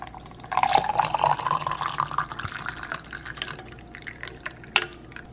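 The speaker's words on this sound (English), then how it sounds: "And then you just add your water." Water added to loose herbal tea in a brewing container gives a near, soft trickling fill with small drips and splashes, fairly quiet and alone.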